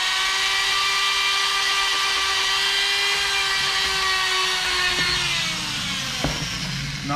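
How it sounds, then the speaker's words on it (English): A rotary file grinds on a metal part during a pumping unit rebuild, giving a loud, high, steady whine that shifts slightly in pitch toward the end. "I already got my rotary file here on the table"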